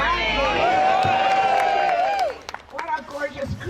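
A crowd cheers and waves flags at an outdoor gathering, with a loud, sustained roar and a long shrill whistle-like tone in the first two seconds before the noise drops to scattered voices.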